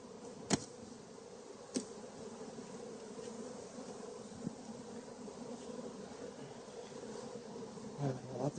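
Honeybees buzz in a steady drone around an opened hive's inner cover where they are feeding on sugar, with a few brief knocks and bumps breaking through the continuous hum.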